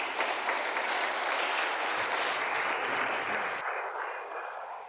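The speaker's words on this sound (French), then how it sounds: "Je voudrais vous demander de bien vouloir remercier Dieu avec moi par un applaudissement." Audience applause at a New Year's greetings ceremony in the Maison de la Culture, Ouidah, a dense steady wash of clapping that fills the whole stretch and eases off slightly toward the end.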